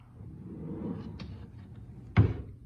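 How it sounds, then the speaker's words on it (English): A drawer hollowed out as a hidden compartment is pulled open, giving one short, near wooden slide and knock over low background hum, with a faint scrape just before. "Go into this drawer right here, and just like a normal"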